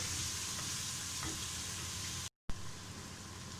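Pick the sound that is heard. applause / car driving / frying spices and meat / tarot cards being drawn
frying spices and meat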